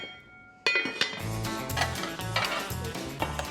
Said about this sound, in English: I'm just gonna put the lid on and let it simmer for about 25 minutes or so